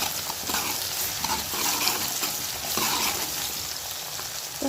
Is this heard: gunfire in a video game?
no